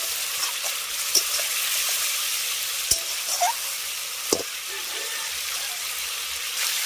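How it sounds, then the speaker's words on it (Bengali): Boiled potatoes sautéing with spices in a pan while preparing a potato and banana-stem curry, a steady low sizzle with a few sharp stirring clinks, close and fairly quiet. "মশলার সঙ্গে আলুটাকে একটু কষিয়ে নেওয়ার পর"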